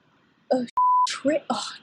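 A single steady censor beep lasting about a quarter second, cutting into the middle of quick speech.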